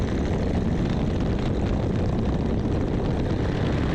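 A small propeller airplane at full power accelerating down the runway for takeoff, giving a loud, steady, broadband engine and propeller drone that holds constant throughout, as heard from inside the cabin.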